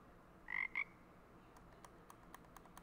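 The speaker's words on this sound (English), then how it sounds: "It's just a giant toad." A giant toad in the Hades II video game lets out two quick, loud croaks close together, followed by faint soft ticks and clicks against a quiet background.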